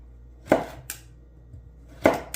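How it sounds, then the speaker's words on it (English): A knife slices a halved carrot crossways into julienne strips on a cutting board. Two crisp, close chops each give way to a lighter tap, with quiet gaps between. "I cut the carrot in half first, so I have that flat surface down on the cutting board. And then you just cut them crossways."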